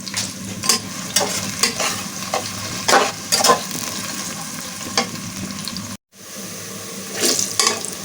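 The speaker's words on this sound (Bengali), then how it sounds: "এখানে আমি দারচিনি, এলাচ, লবঙ্গ, কিছুটা গোলমরিচ আর পেঁয়াজ দিয়ে দিয়েছি গরম তেলের মধ্যে।" Onion, cinnamon, cardamom, cloves and black pepper frying in hot oil, a loud steady sizzle with repeated scraping stirs, broken by a brief gap before the frying noise returns.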